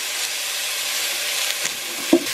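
Vegetables for a vegan potato leek soup sizzling and frying in oil in a pot, a steady close hiss with a few soft scrapes and one sharp clink of a utensil near the end.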